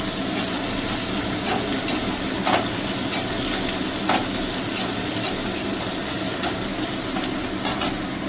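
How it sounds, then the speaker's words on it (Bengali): Crab frying in ghee in a kadai, a steady sizzle with intermittent scraping clicks of stirring throughout, moderately quiet and without talk. "এবার কাঁকড়াটা ভাজা হয়ে গেল"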